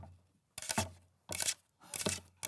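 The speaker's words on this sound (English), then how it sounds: "the sound of paper clips on a cutting board, making the tippy-tappy sound" Paper clips tap and rattle on a cutting board in three short bursts of quick, light clatter separated by near-silent gaps, close and fairly faint, with no one speaking.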